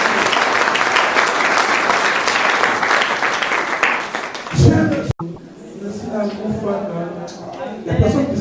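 A church congregation cheers and applauds for the king of glory: dense, loud, sustained clapping for about four and a half seconds, then a voice speaking over a quieter room.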